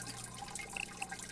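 Water splashes and trickles in a simulated aquarium during a water change in Biotope Aquarium Simulator, a soft, steady liquid wash with faint drips, quiet and continuous.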